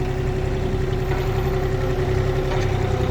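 A Komatsu PC10-7 mini excavator's engine idles steadily nearby, a low, even rumble with a constant hum and no change in revs.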